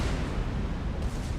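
Dense, continuous low rumble of warship secondary guns firing in a World of Warships naval battle, volleys blending into a steady roar with no distinct gaps and no voices.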